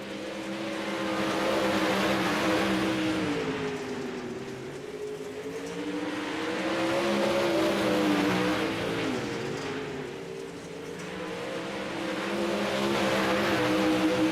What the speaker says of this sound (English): As drivers get these cars warmed up and ready to run here tonight.